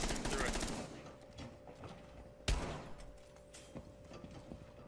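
Rapid automatic gunfire bursts in a Rainbow Six Siege match. A dense volley opens the moment, then a loud single shot and scattered quieter shots follow, with player voices talking around them.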